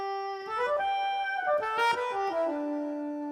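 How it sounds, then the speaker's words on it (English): Yamaha PSR-SX920 keyboard playing an 80s ballad piano voice: a short melodic run of clear, sustained notes ending on a held tone, close and moderately soft, no talking. "Nice 80s ballad piano,"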